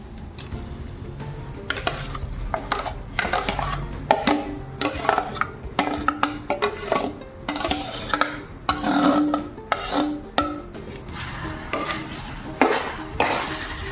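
Mashed pav bhaji vegetables are stirred into sizzling masala, with repeated close scraping and rubbing strokes of a spoon against the pan over a continuous low sizzle and no talking.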